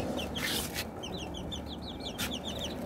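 Young chicks peeping and clucking close by in a home setting, a steady run of small, high chirps over a quiet background, with a couple of brief rustling bursts between calls.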